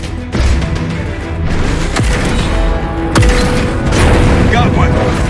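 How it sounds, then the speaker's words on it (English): Mech weapons fire in the Phantom Brigade video game: loud repeated booms and gunfire bursts, with a sharp blast near two and three seconds, under a continuous battle din and radio-style talk. "Returning fire."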